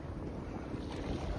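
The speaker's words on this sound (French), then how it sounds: "il y a toujours plus de vent ici" Steady, buffeting wind roars across the microphone aboard a Figaro solo sailboat out on the water, with a constant dense rush and no speech.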